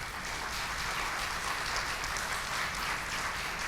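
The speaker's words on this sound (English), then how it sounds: "I don't think I was going to get a round of applause." An audience at a school board of education meeting claps together, a dense, steady wash of applause filling the room for a few seconds with no speech.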